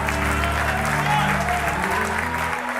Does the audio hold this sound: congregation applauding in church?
yes